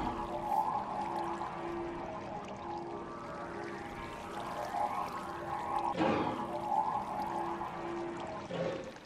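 Water placed in Minecraft flows in a continuous pouring, trickling wash with steady tonal hums and a few sharp swooshing sweeps, moderately loud throughout with no speech.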